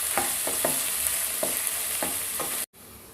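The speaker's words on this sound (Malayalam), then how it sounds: "ഇതൊക്കെ ഒന്ന് ക്രഷ് ചെയ്തെടുത്ത് വെച്ചിരിക്കുകയാണ്. നല്ലപോലെ ഒന്ന് മിക്സ് ചെയ്ത് കൊടുക്കാം." Crushed ingredients being stirred in a frying pan for a Kerala-style squid stir fry with coconut, soft sizzling under repeated scraping strokes of a spoon, close and steady, cutting out abruptly near the end.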